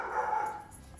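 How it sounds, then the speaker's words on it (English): A powerful dog in Xenoblade Chronicles 1 gives a single deep, resonant bark that swells and fades within about a second, heard alone without talk. "That dog has such a powerful bark."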